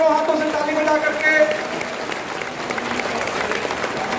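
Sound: audience applauding at ceremony

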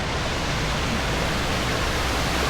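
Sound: Malshej Ghat waterfall in the Sahyadri mountains

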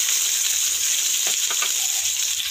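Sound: onions frying in oil with spices

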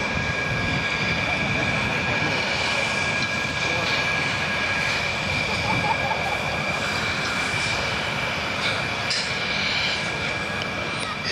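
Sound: F-16 fighter jet engine during aerobatic display

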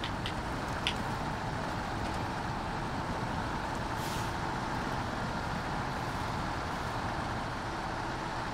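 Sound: truck driving in video game SnowRunner

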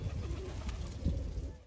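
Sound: pigeon cooing

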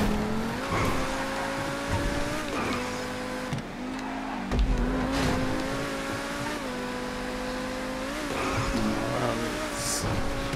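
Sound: car driving in video game GTA 5 (Insurgent vehicle)

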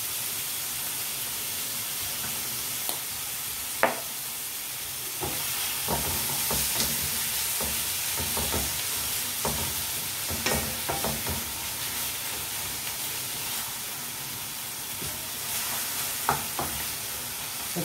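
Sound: sautéing tomatoes in a pan

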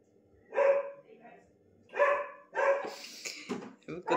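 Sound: neighbourhood dogs barking

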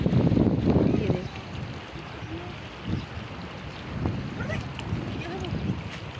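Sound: cold wind blowing by a river

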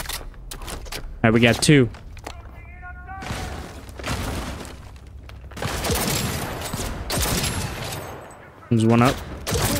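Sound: gunfire in the video game Cyberpunk 2077

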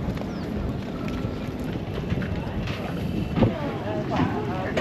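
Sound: boat heading out on water

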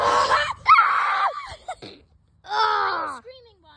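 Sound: person screaming

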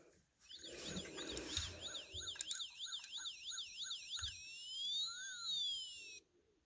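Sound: toy siren of a Lego fire station

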